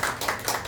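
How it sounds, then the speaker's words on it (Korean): A brief patter of audience clapping at an indoor gathering of a YouTube association, a few quick rhythmic hand claps, moderately faint and cut short. "박수 좀 보내주시죠"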